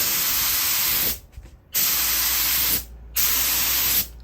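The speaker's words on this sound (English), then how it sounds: "when I do my spray pattern" A loud, steady hiss of a spray gun spraying clear top coat on furniture in three long passes, cutting off briefly between each pass.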